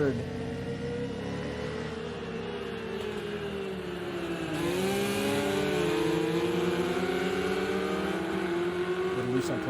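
Porsche GTE race cars lapping at Le Mans, with engines droning and revving in steady, shifting tones that swell louder midway, heard under continuous commentary.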